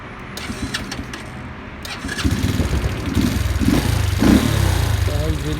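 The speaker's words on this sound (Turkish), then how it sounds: "Bir de çalıştıralım motorumuzu" An Arora Kasirga 50 cc scooter engine catches and starts after a few cranking attempts, then settles into a rising, close putter, while someone talks over part of it.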